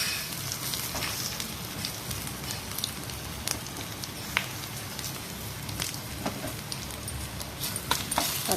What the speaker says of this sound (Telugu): బాగా వేడైనాక వెల్లుల్లి కూడా వేసేద్దాము. సో బాగా ఫ్రై అవ్వాలి.